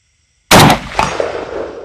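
A single loud, sharp rifle shot cracks close by on an outdoor range with steel targets at 100 yards, followed by a short echoing tail.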